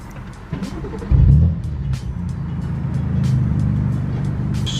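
BMW F80 M3 running on E85 fuel turns over and fires, with a short starter burst followed by a steady, rumbling idle close by.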